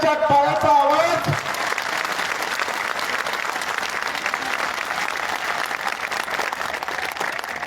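Loud, sustained applause from a large crowd at a Maratha rally in Hingoli district, following a brief stretch of a speaker's amplified voice, then steady dense clapping continuing without letup.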